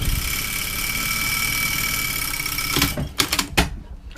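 A sewing machine runs a steady pin stitch along the edge of a pocket facing, a continuous mechanical whir up close that breaks into short stop-start bursts near the end.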